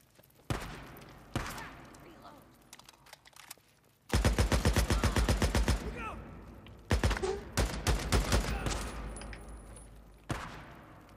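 Gunfire and shotgun blasts from the video game Days Gone: a few scattered heavy shots, then a dense, loud stretch of rapid automatic fire mixed with booming single shots, with a voice talking faintly in places.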